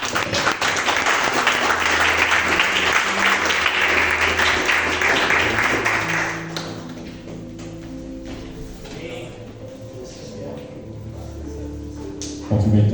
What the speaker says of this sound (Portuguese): iniciando, ó Deus, com uma salva de palmas para o Senhor Jesus